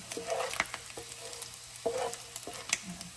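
Bacon in a pan of oil gives a low steady sizzle with scattered soft crackles and pops, heard up close at modest volume.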